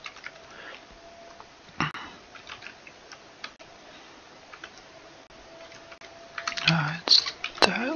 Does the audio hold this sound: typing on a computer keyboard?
yes